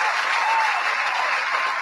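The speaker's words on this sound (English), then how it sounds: "Give moms a round of applause." Applause for moms rises during a lively recap conversation, a steady wash of clapping that holds at moderate loudness for the whole stretch without any talk over it.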